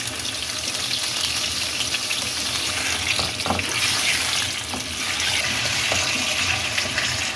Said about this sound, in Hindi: जब ऑयल हल्का सा गर्म हो तो इसके अंदर जो हमने आलू की कतलियाँ काटी हैं वो डाल दें और आलू को फ्राई कर लें।